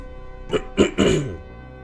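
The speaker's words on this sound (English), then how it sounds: "I'm sorry for the coughs." A quick burst of three close coughs, rough and throaty, over faint background hum.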